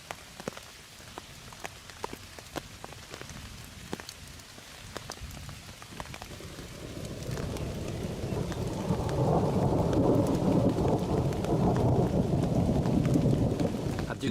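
Rain pours steadily during a storm in a survival camp, growing heavier and louder partway through, while faint low thunder rumbles far off beneath it.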